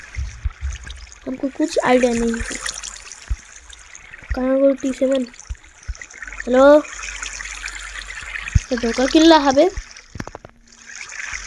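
Flowing water trickles and splashes in Minecraft, a soft steady wash running beneath several bursts of voices talking over it.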